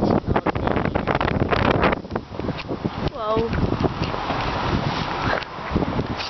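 Strong wind buffets the microphone outdoors, a continuous roaring rumble throughout, with a short spoken exclamation and brief talk under it.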